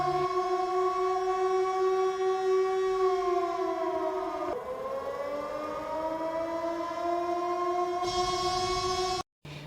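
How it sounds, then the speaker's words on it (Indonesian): A long civil-defense siren wails steadily in a horror film, its pitch sagging and then climbing back, sustained and loud before cutting out abruptly near the end. "Namun ketika terdengar suara sirine lagi, Elisa terbangun dan mengeceknya."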